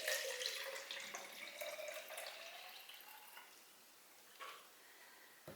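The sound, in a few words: pouring excess water from clay into a pot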